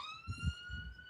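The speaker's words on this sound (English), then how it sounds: "No, that was a fire engine going past my house." A fire engine siren passes outside a house, a faint steady wailing tone heard from a distance through the room, with low thumping noises close by.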